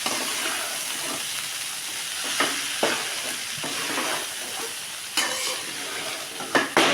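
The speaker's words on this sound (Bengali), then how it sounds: "আস্তে আস্তে নাড়ব।" Flattened rice being stirred in a frying pan with capsicum, salt and turmeric: a continuous oily sizzle and hiss, broken by a handful of soft spatula scrapes and knocks.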